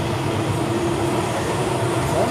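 A train passing nearby gives a steady, continuous low rumble with a faint higher tone running through it, holding at an even level throughout with no voices.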